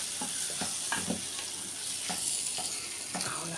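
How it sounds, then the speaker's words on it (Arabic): Rice sizzling in hot oil in a pan while being stirred, with repeated scraping strokes over a steady frying hiss, close and fairly quiet. "حطيت الزيت، حطيت الرز، اقلبه اهو"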